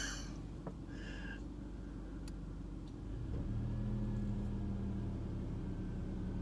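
A car pulling into a nearby parking space at a drive-in, its low engine rumble rising and settling into a steady idle hum.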